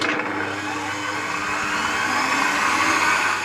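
An electric mixer whirs through vegan chocolate chip cookie batter with a steady, loud motor drone that stays constant for a few seconds, close by and with no talk.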